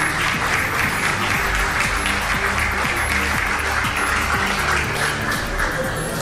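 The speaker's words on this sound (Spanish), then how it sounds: "le damos un gran aplauso a estos deportistas y a Jairo Ruiz" Loud, continuous crowd applause at an official ceremony honoring athletes headed to the Olympic Games, a dense wash of clapping with a faint rhythmic thump underneath.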